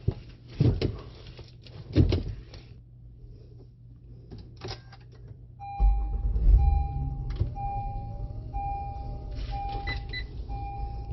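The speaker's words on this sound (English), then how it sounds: "I'm gonna go ahead and start the vehicle" A Honda Odyssey with a 9-speed automatic starts up inside the cabin: a few thumps and clicks, then the engine catches with a low surge and settles into a steady idle, with electronic chimes sounding over it.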